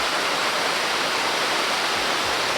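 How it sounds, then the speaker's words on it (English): A hidden waterfall in Slovenia's Soča Valley makes a constant loud rushing roar of falling water, close by and unbroken. "That's a proper secret waterfall"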